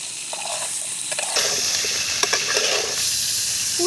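Cauliflower fries in a pan with a steady sizzle that grows louder partway through, broken by scraping and clinking as it is stirred.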